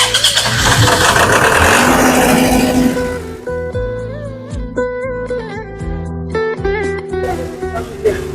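A large generator engine used with a maize drying machine cranks and catches loudly, then settles into a steady mid-pitched idle with a hum that holds to the end.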